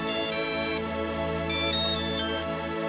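A mobile phone ringtone plays a loud, bright electronic melody in repeating bursts of sustained tones, clear and close with no voices.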